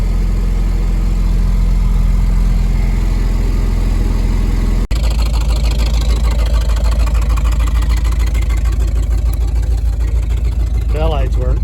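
A 1975 Ford F250 with an FE 390 V8, just revived after decades seized, runs at a fast idle around 1800 RPM after a cold start, a loud, steady, rough drone throughout with a brief dropout midway and people talking over it.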